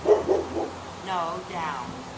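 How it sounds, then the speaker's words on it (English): A neighbor's dog barks a few times in the distance, brief yips under a person giving short spoken dog-training commands. "That's a neighbor's dog barking, not one of ours."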